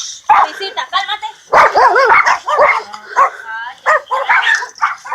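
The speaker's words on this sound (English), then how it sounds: "Sorry, there's some dogs barking." Several dogs bark and yip in quick irregular bursts, some close and loud, with someone speaking between and over the barks at night.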